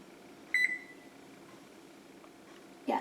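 A single short electronic beep from an oven's control panel as it is set to preheat to 350 degrees, close and clear against a quiet room hum, with a faint second blip near the end.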